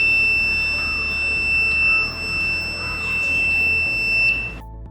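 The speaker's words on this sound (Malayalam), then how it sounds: "നമ്മുടെ ബർഗ്ലർ അലാം റെഡിയാണ്." Homemade IR burglar alarm buzzer, set off by a door opening, sounds as a steady high electronic tone held for several seconds before cutting off abruptly near the end, with faint background noise.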